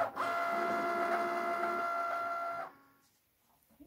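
A Cricut cutting machine slices through vinyl, giving a steady mechanical whirring hum with faint tonal motor whine for about two and a half seconds before stopping abruptly, leaving near silence.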